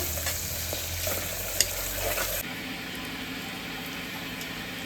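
Greens dropped into hot tempering oil, a loud dense sizzle and crackle for a couple of seconds that then settles to a quieter steady frying hiss, close by.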